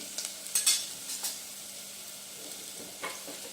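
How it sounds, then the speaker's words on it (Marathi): Mustard seeds and ginger garlic paste fry in hot oil while a spoon stirs them in a pan, giving a faint, soft sizzle with a few light scraping stirs near the start. "मोहरी, अद्रक लसूण पेस्ट, अद्रक लसूण असं चांगलं आपल्याला थोडंसं लालसर होऊ द्यायचं आहे।"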